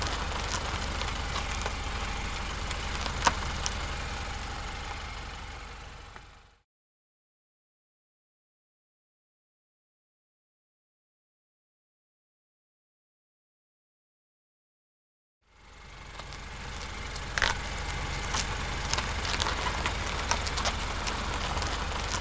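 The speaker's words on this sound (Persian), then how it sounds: "کوپه." A coupe's engine idling steadily, a low continuous rumble that runs for several seconds, cuts to silence, then returns at the same level.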